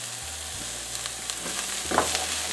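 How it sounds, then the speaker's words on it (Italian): Chopped vegetables with a piece of onion and a sprig of rosemary frying in oil, a steady close sizzle with light stirring scrapes and small crackles toward the end. "Aggiungo uno spicchio di cipolla, un rametto di rosmarino e aggiungo tutte le verdure che ho tagliato"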